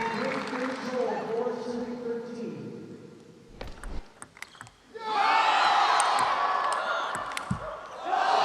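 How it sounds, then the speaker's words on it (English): Spectators at a professional pickleball league match between Bay Area and Portland break into a loud, sustained burst of cheering partway through, after a quieter stretch of play sounds, with a commentator speaking over the court noise. "a premature cheer from the crowd"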